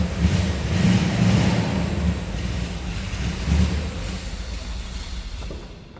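A 1961 Chevrolet Corvette convertible's engine idles and revs steadily nearby, its low rumble continuous for several seconds before tapering off as it is shut down.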